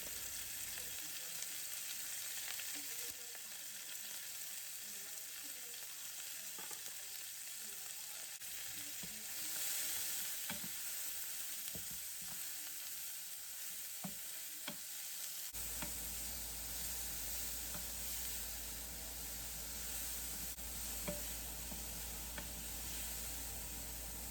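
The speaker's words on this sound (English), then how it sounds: "Then kept stirring those around so that they would get a little bit caramelized." Onion slices sizzle steadily in a skillet while being stirred for caramelizing, a continuous frying hiss broken by scattered scrapes and clicks of the utensil, with no talk.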